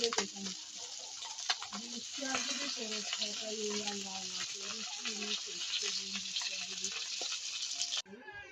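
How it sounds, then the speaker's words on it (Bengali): Mixed fish fry in hot oil in a home kitchen pan, giving a steady bright sizzle throughout, with faint stirring and a voice talking over it. "এখন মাছগুলো ভালোভাবে ভেজে"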